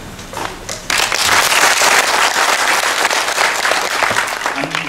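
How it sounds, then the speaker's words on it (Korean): Audience applause at a real estate forum launch and panel discussion at Sejong University, starting with scattered claps and swelling into full, steady clapping after a second that holds loud and even to the end. "큰 박수로 맞이해주시면 좋겠습니다"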